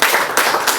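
Audience applause at a girls' workshop event in Pointe-Noire: a brief burst of dense, steady clapping that fills the room at close range.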